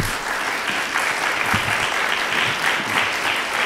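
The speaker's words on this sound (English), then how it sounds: "Let's get a round of applause for our candidates if we could" An audience at a city council at-large candidates forum gives the candidates a round of applause, a steady, full burst of many hands clapping across the room that continues throughout.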